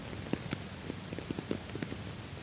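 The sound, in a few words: heavy rain falling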